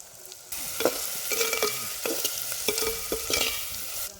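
Onions frying in a pan with turmeric and salt, stirred with repeated scraping strokes over a steady close sizzle, no voices.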